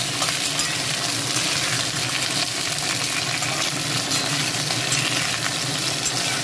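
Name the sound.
flat beans being fried and stirred in a pan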